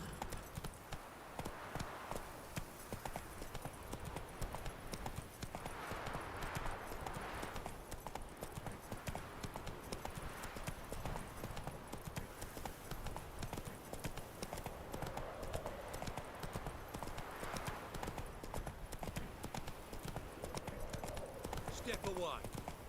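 Roach, the horse in The Witcher 3, trots with a steady, rhythmic clip-clop of hooves that runs throughout, fairly quiet and even, while voices talk intermittently over it.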